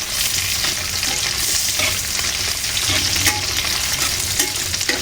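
Chilies, shallots and garlic sizzle and crackle steadily in a pan of hot oil, a dense continuous frying hiss with occasional stirring scrapes, close up and without talk.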